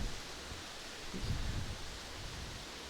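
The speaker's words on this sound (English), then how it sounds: "it is raining extremely hard" Heavy rain falls outdoors as a dense, steady hiss of broadband noise, with a brief low rumbling swell near the middle; no one speaks.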